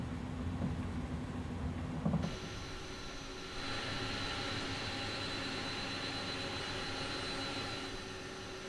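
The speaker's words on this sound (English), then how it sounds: "APU's coming online" An aircraft auxiliary power unit spins up in a flight simulator on a flight between Springfield and Louisville, a low rumble joined midway by a rising, steady turbine whine that holds on, fairly close, with no talking.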